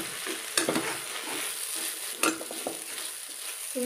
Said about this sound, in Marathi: त्यामध्ये मी अर्ध्या पळी तेलाची टाकून घेते।